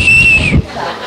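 A person whistles a single sustained, slightly wavering tone for about half a second, close and loud, ending abruptly with a soft breath-like rustle afterward.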